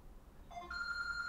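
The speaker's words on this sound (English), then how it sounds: "That's my phone." A phone rings faintly in a quiet room, with a short electronic tone followed by a sustained steady ring.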